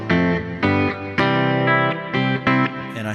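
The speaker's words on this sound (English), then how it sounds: "I'm using my Kemper profiling amplifier." An electric guitar through a Kemper profiling amplifier, with reverb, plays a series of ringing chords in a steady rhythm, each strike sustaining before the next, with no voices.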